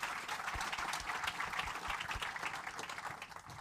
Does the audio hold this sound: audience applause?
yes